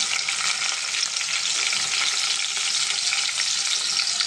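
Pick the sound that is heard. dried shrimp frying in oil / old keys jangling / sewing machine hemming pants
dried shrimp frying in oil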